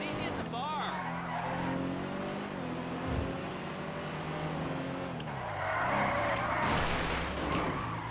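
A Chavos V6, modeled on a rear-wheel-drive Honda Accord, driven in a video game: a steady engine drone with shifting revs and squealing tire skids, continuous and fairly close, with a voice talking over it.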